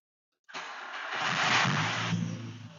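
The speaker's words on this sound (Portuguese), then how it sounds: "Então, se eu funcionar esse carro" A VW Gol engine cranks and catches at about half a second, then settles into a steady, loud idle close by.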